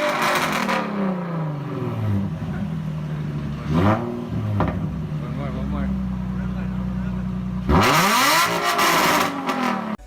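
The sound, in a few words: Nissan 350Z with straight-piped exhaust revving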